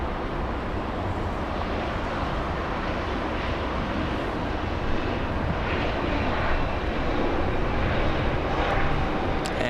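A JetBlue airliner passes at LAX with a steady, loud jet engine roar that stays even throughout, close and unbroken, with some wind buffeting.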